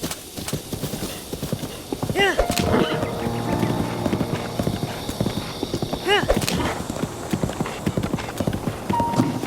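Horse hooves clip-clop steadily in the Zelda: Breath of the Wild video game, a loud continuous trot with a couple of whinnies, mixed with game music and a player talking over it.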